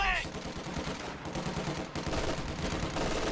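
An MG42 machine gun fires in a video game battle in rapid sustained bursts, a dense, loud rattle of rounds lasting the whole moment, mixed with other battle noise and a brief high whine at the start.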